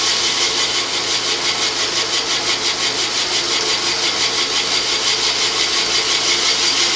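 A boring machine cuts slowly through the top of an engine block cylinder into the ring-wear zone, giving a steady loud grinding, rasping drone with a faint pulsing rhythm and a low hum beneath it.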